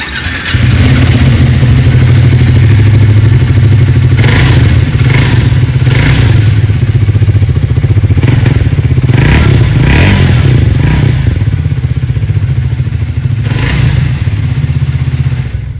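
A black Triumph Speed 400 motorcycle engine running close and loud, a steady deep exhaust thrum with several short throttle blips rising and falling over about fifteen seconds.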